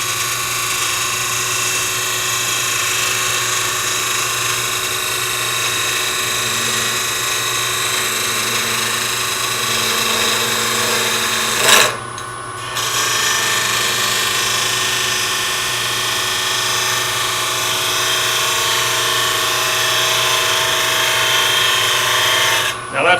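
Wood lathe spinning steadily while squaring off the edge of a miniature turned box top, a constant loud whirring hum with steady tool scraping, briefly interrupted partway through, with someone talking over it.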